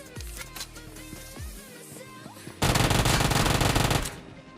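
Gunfire in PUBG Mobile, a close, loud burst of rapid automatic fire lasting about a second and a half after quieter in-game sounds and scattered single shots.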